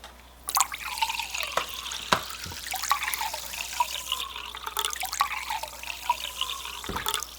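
Hot dog marinade trickles and splashes into a bowl with a steady wet, dripping sound, punctuated by a few sharper drips and clinks.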